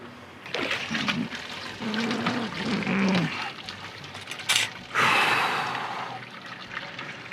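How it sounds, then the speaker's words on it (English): Wort drains and trickles steadily out of a lifted Anvil Foundry grain basket during an IPA brew, a continuous close liquid splashing and dribbling with a brief louder gush partway through. "we're gonna let that drain for a minute and then we'll sparge"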